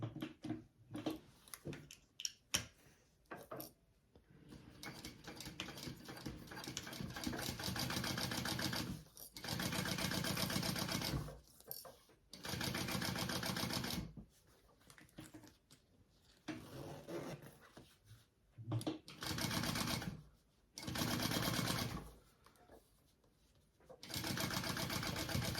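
A sewing machine stitches fabric at the seam allowance for a colouring caddy, whirring in several sustained runs of a few seconds each, separated by quieter pauses with handling noises, close and fairly soft.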